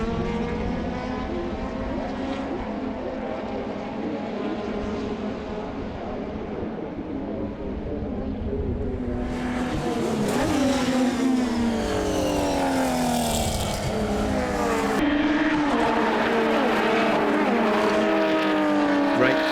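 Race cars at a WA Sporting Car Club circuit race scream past in a dense, continuous roar, engines rising and falling as several cars dice through the corners, loud and sustained throughout with no voices.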